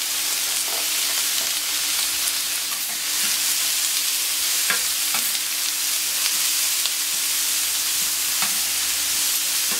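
Bell peppers and onions fry in a pan with a steady, continuous sizzle, joined by occasional stirring clicks and scrapes, with no voices.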